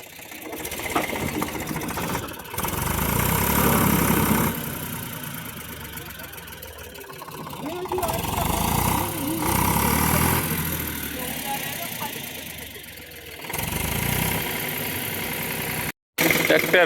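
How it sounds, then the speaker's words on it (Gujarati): A tractor engine drones and labours loudly at close range while stuck in river sand at night during stone unloading, revving and easing in waves, with people talking over it. "ટ્રેક્ટર હજી ઉલારવાનું કામ ચાલુ છે ટ્રેક્ટર હજી ખાલી કરવું જોઈએ"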